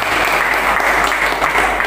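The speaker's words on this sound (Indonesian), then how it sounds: "Tepuk tangan dulu." Brief, dense burst of audience applause at an evening KNPI Lampung youth organisation gathering in Indonesia, loud and even throughout.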